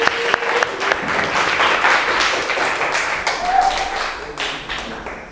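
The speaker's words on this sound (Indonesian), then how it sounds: "kita kasih tepuk tangan untuk teman kita" Classroom applause from students for a classmate in an Indonesian-language lesson, a dense burst of clapping lasting several seconds and slowly thinning, with a few louder taps mixed in.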